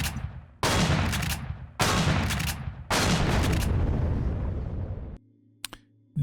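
Explosions in the space survival game Empyrion Galactic Survival, modded Reforged Eden, blowing up a structure: three loud booming blasts with sharp onsets a second apart, each decaying into rumble, then a quiet hum and a couple of small pops.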